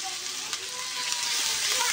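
Ground spice paste with chili powder and cinnamon bark frying in hot oil for a silver carp and pointed gourd curry, a close, steady crackling sizzle with light stirring scrapes.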